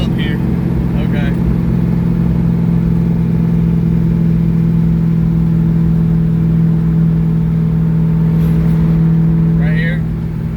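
An LS-swapped Mazda Miata running nitrous roars loudly and steadily up close while accelerating in first gear, a strong sustained engine drone throughout, with people talking faintly.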